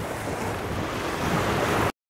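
Steady rushing surf of sea waves breaking against rocks, with wind noise blowing across the microphone, continuous and fairly loud, cutting off abruptly.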